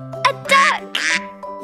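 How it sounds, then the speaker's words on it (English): Cartoon duck quacks in a children's learning animation, several short nasal calls in quick succession, close and clear against a quiet background. "What animal is this? A duck!"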